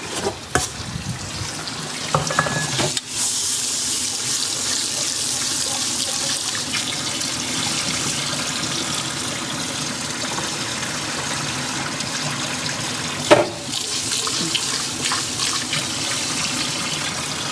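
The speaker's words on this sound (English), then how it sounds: "And then we wash the rice, and then we do 2 cups of water." Rice being washed under hot running tap water, a steady loud gush of water into a sink with a few sharp knocks and clatters of the pot near the start and one later, no talking.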